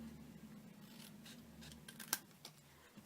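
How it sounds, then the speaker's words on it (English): Scissors snipping through paper while cutting a piece off a paper coffin craft, a quiet run of close crisp cuts with a few sharper snips near the end. "So I can actually cut off this piece here,"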